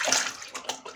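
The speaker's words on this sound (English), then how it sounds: "So I wash up my face and then I come." Water splashes and sloshes as a face is washed at a sink during a wet-shaving routine, a few quick close splashes within a second.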